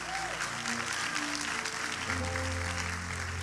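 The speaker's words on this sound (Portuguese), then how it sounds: "vamos aplaudir ao Senhor." A church congregation claps together in worship, a steady wash of applause running the whole time at moderate distance, with faint tonal music or hum underneath.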